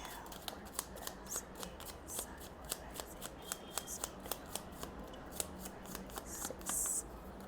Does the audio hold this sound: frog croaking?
no